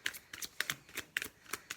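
A deck of cards being riffled and shuffled up close, a quick run of crisp papery flutters in short bursts, quiet and alone.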